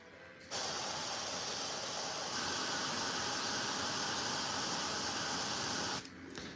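Continuous close airbrush hiss spraying paint on a Warhammer miniature, starting abruptly, holding steady for several seconds, then cutting off, with quiet room sound before and after.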